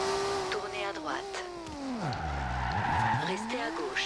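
A car in the racing game Forza Horizon 2 skids through a city street, tires squealing in long sweeping pitch slides over a steady engine drone, loud and close throughout.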